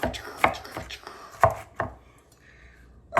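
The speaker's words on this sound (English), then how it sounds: "What we're going to do is we are going to chop it loosely." A big kitchen knife chops loosely through food for dirty rice and beans on a cutting board, five or six solid thuds at an uneven pace, close and clear, with faint background noise.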